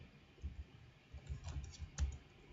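Several soft keystrokes on a computer keyboard while entering a command in a Juniper router configuration session, a few scattered taps with a brief cluster near the end, fairly quiet and close with no voices.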